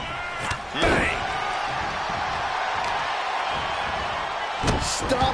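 Heavy impact of a pro wrestler stomping down on an opponent's arm in a Brock Lesnar match, a loud thud near the start and another near the end over steady arena crowd noise and commentary.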